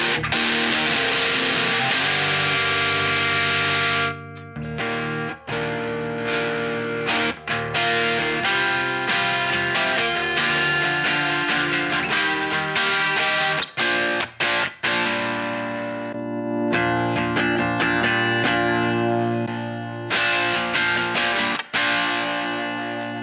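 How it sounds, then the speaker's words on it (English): Electric guitar played through a JHS Pack Rat distortion pedal, giving a dry, crunchy distorted tone with loud sustained chords and short palm-muted chugs, broken by brief pauses, with no talking. "It's a very dry type of distortion."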